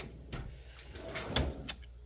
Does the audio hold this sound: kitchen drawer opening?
yes